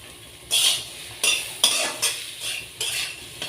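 Taro stems with raw green chillies fried in a pan, stirred in about six rhythmic, evenly spaced scraping strokes over a steady low sizzle, close and clear with no talking.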